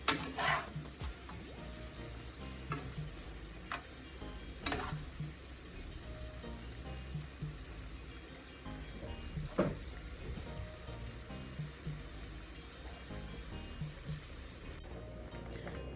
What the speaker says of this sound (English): We'll then leave this to simmer